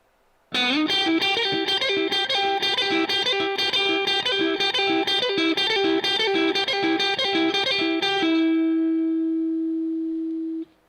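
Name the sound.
electric guitar playing whole lick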